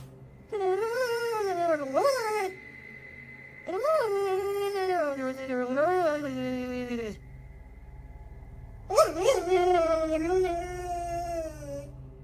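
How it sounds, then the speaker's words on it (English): A dog whines in long, high, wavering cries that rise and fall in three drawn-out bursts, close and loud, with a steady tone humming in the gaps between them. "He's seen in the video staring at something and whining for several minutes."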